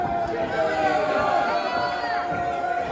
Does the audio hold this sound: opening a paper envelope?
no